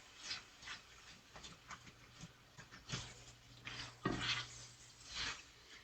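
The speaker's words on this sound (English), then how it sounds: "Let all of the goodness sink to the bottom while I stir this up." Food is stirred in a stainless steel pot with a run of soft scraping, tapping strokes at an uneven rhythm, fairly quiet and close, with no talking.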